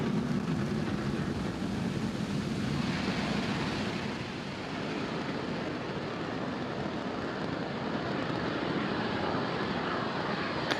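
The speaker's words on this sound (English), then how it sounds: "Falcon 9 has successfully lifted off from Space Launch Complex 40 at Cape Canaveral Space Force Station" A SpaceX Falcon 9 rocket climbs after liftoff from Space Launch Complex 40 at Cape Canaveral, its engines giving a loud, steady broadband roar that rumbles on continuously with a slight dip midway.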